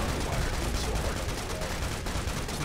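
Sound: AK rifle gunfire in video game Serious Sam: Siberian Mayhem

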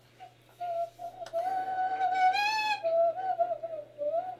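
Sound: person whistling

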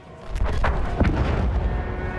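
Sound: turret cannon firing at a train in the video game Battlefield 1

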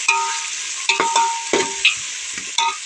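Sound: potatoes and tomato frying in pan

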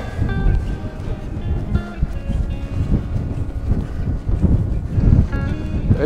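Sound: wind

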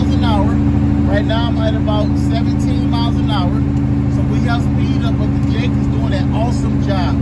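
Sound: truck engine brake (jake brake) on mountain downgrade

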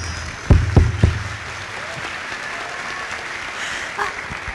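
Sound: audience applauding

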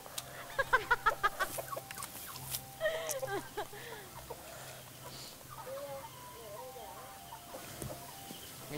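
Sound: chickens clucking in a chicken coop

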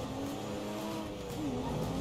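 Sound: Porsche 911 race car engine in a video game

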